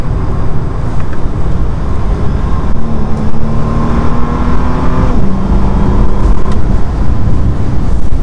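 A Bentley Continental GT engine pulls hard while climbing a steep road, a steady loud drone whose pitch rises smoothly over several seconds, dips, and then climbs again as the car keeps accelerating.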